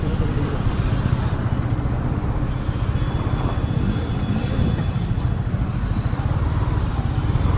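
Himalayan motorcycle cruising on a road ride, giving a steady, unbroken engine drone mixed with heavy wind rush throughout, with no talking.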